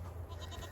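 A farm goat gives a short bleat close by, a brief wavering cry over a low background hum, with no voices.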